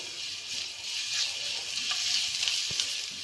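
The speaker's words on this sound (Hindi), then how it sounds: "लहसुन को मैं हल्का सा फ्राई करती हूँ" Garlic frying in oil for white sauce pasta: steady oily sizzling and crackling, fairly close, with a constant bright hiss and a few small pops, no voices.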